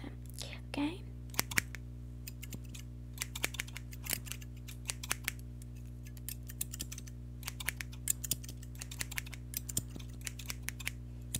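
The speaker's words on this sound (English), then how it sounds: "Use these two scissors and then let's cut all of them." Sharp scissor snips during an ASMR haircut roleplay, close and crisp in quick irregular bursts of clicks over a steady low hum, with soft whispering in places.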